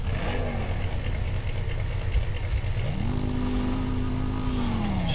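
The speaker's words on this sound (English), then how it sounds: "So we're gonna put the bike down, get on the bike." A motorbike engine in the video game Empyrion hums and revs close by, a steady droning tone that climbs in pitch partway through as it accelerates.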